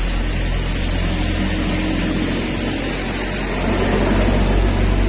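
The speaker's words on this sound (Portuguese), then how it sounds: "tá vibrando o carro ali." A car engine runs close by, giving a steady, even low rumble with a constant hiss over it for the whole stretch, and no voices are heard.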